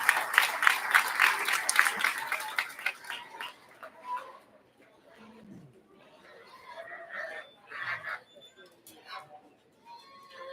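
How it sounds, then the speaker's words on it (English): A crowd at the Summit County, Utah fair livestock market judging applauds for those with pigs in the ring. The clapping is dense for about three seconds, then fades into murmuring chatter with birds chirping. "One more big round of applause for those individuals"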